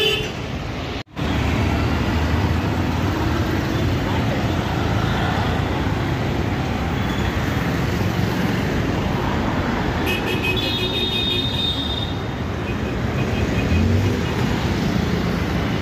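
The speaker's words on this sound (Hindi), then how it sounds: "यहाँ ट्रैफिक इतना रहता है कि रोड क्रॉस करना यहाँ सबसे मुश्किल काम है" Dense street traffic in Andheri, Mumbai, a loud unbroken wash of engines and road noise with a brief dropout early on and a few horn toots partway through.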